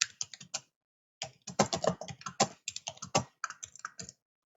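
A password is typed on a computer keyboard as quick bursts of close, crisp key clicks, with a short pause before a longer steady run, and no voices.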